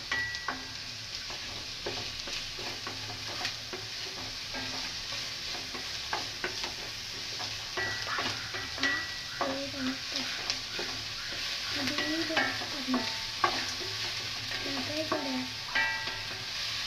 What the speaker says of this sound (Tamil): பெரிய சைஸ் 2 வெங்காயம் சேர்த்து